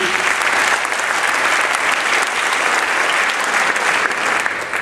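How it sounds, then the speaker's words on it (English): Steady, loud audience applause fills the room at a DC tech meetup on mobile technology, a dense continuous wash of clapping from a crowd that holds evenly throughout without fading. "Many of you here, clap up for Pete."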